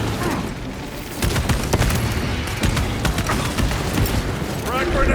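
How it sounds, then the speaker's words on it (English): Frag grenades and weapons fire in Warhammer 40000: Space Marine 2 come as repeated heavy booms and crackling bursts over several seconds, mixed with game voices. "Frag grenade out."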